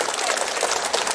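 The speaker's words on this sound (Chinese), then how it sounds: "再次热情的掌声送给崔西月" Audience clapping fills a Peking opera concert hall after a vocal performance, a dense steady burst of hands that stays loud and even throughout.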